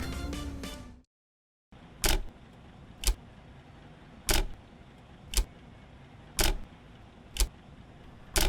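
Studio Polygon 400MMC bus in OMSI 2 gives a short burst of noise, then a brief silence, then a looping series of sharp clicking ticks at roughly one-second intervals over a steady low cabin hum.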